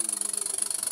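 Anton six-cylinder V marine steam engine running, a rapid, even chuffing pulse with a high whine and a steady low tone, close and continuous without voices.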